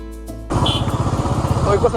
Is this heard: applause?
no